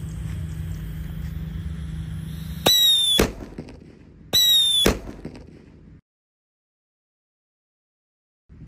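Two loud blasts from a large Pearl Thunder firecracker go off a second or so apart, each a sharp crackling burst, then the scene falls silent.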